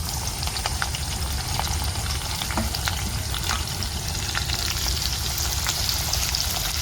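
Chopped onion and green chilies fry in oil with garlic, a steady close sizzle crackling evenly throughout with faint scrapes of stirring and no voices.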